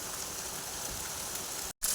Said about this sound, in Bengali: তো ফাইনালি আমাদের বৃষ্টি হচ্ছে